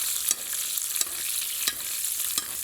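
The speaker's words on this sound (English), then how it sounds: "And now we start spooning it over the steak." Butter sizzles steadily as it is spooned over a ribeye steak in a hot pan, a continuous close hiss broken by several sharp splattering spoon strokes.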